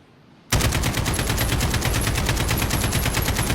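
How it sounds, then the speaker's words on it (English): Sustained automatic fire from an AK-47 in Call of Duty: Modern Warfare (2019), a loud rapid stream of shots bursting in abruptly after a brief quiet moment and continuing without pause. "from the recoil pattern with no joystick control whatsoever"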